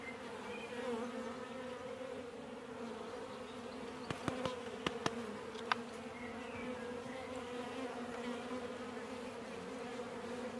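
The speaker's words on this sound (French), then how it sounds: "Il y a une abeille, mais c'est une abeille." A honeybee buzzing close by a beehive nucleus box, a steady droning hum lasting throughout, with a few faint clicks partway through and no talking.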